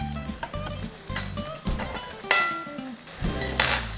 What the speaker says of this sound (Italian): Cominciano a friggere adesso.